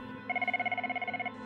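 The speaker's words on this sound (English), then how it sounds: "Now, when the scramble phone rings," A scramble phone at an air ambulance base on a former RAF airfield rings with a rapid electronic trill, about a second of evenly pulsed, close, clear bursts over a quiet room.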